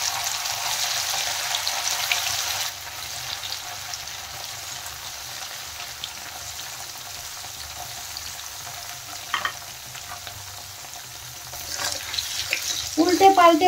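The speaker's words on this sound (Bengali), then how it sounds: "তেলের মধ্যে এখন পনিরগুলো দিয়ে আমি ভালো করে ভেজে নেব।" Paneer frying in hot oil in a wok, a steady close sizzle with brighter hiss at the start, a few stirring clinks later and louder spatter near the end.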